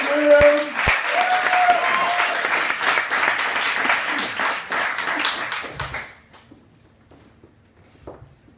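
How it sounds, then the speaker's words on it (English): A comedy-club audience at a Bright Club science-comedy night claps to welcome a comedian to the stage, a full round of applause with a voice over the start, fading out around six seconds before a few footsteps and small movement sounds. "Start the applause."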